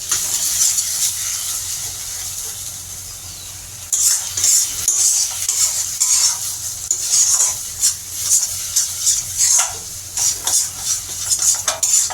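Pointed gourd mash is stirred and sautéed in a pan, a steady scraping and stirring with a soft sizzle underneath, getting busier and more rhythmic after a few seconds, close up with no voices.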